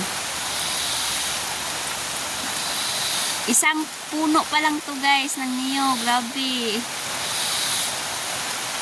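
Steady heavy rain during a typhoon in a rural province hisses throughout as a dense wash of noise, with a person speaking briefly over it in the middle.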